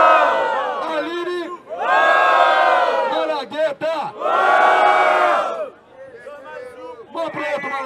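A loud crowd roars and cheers in big swelling waves at a rap battle semifinal, with shouting voices and whoops, dipping briefly between bursts before surging again.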